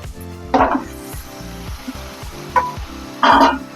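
Tomatoes dropped into a pan of frying chilli, coriander and cumin powder for a village-style tomato gojju, giving a few bursts of sizzling and scraping stir noises over a low steady background, with no talking.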